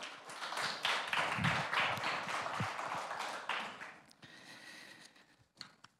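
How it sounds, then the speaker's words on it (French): Church congregation claps for their pastor, a dense burst of applause for several seconds that thins out and fades near the end, with a few scattered claps trailing off. "Est-ce qu'on peut acclamer et applaudir notre pasteur Laurent?"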